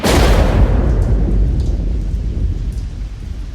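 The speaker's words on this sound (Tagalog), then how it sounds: "Sinundan ng malakas na hangin na may kasamang kulog at kidlat" A loud crack of thunder rolls away into a steady roar of heavy rain and strong wind, close and enveloping, with no voices.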